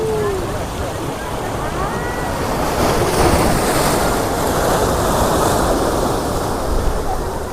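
Surf washes steadily onto the seashore at Nivati Rock on the Konkan coast, a loud continuous roar of breaking waves mixed with wind buffeting the microphone.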